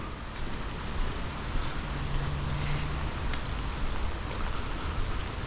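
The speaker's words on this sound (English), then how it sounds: "It's raining on the 25th day of September 2023." Rain falls steadily outdoors, a dense, even hiss of drops on surfaces close around the listener, with no pauses and no talking.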